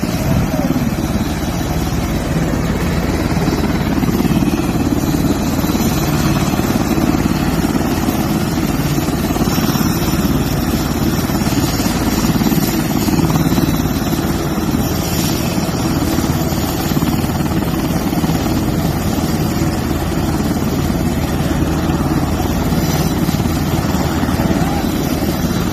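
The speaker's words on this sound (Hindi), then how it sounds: "जिनको हेलीकॉप्टर के ज़रिए एयरलिफ्ट करके इजराइल इलाज के लिए लेकर जाया गया है" A helicopter airlifting badly wounded soldiers to Israel for treatment gives a steady, loud engine and rotor drone that holds unbroken throughout, with no voices over it.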